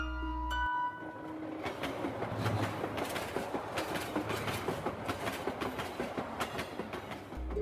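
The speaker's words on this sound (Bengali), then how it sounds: "কিছুক্ষণ পরেই ট্রেনটি রীতিমতো চলতে শুরু করলো" A cartoon train runs on its tracks. A short tone opens, then a close, rhythmic clickety-clack of wheels over rail joints repeats steadily and loudly to the end.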